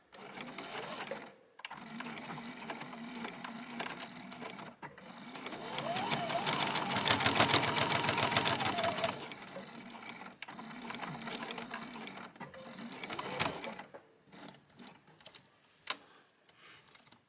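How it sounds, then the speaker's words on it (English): A sewing machine runs a straight seam on a beginner's purse, back stitching at the start and end. The rapid needle clatter swells into a long steady run, then breaks into shorter bursts and stops. "I'm just going to go straight down, but I am going to back stitch at the beginning and the end of this seam"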